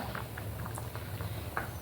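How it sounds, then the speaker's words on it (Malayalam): Erissery-style curry boiling in a clay pot, soft irregular bubbling pops and a low simmering murmur, close and quiet, with no talk. "ഇപ്പോൾ കണ്ടോ നന്നായിട്ട് തിളച്ച് വന്നിട്ടുണ്ട്"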